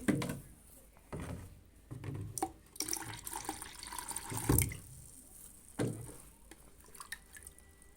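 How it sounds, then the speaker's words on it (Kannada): Water poured and dripping into a container to mix dry fertilizer for a rose plant, with uneven splashes and drips close by, several louder bursts and no talking. "ಇದರಲ್ಲಿ ಸ್ವಲ್ಪ ನೀರಿಗೆ ತಗೊತಾ ಇದ್ದೀನಿ"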